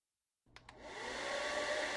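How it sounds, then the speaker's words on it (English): A hair dryer switches on after a brief silence with a couple of clicks, then spins up into a steady, even whirring hum that holds at a moderate level. "The faint hum of the hairdryer buzzed steadily"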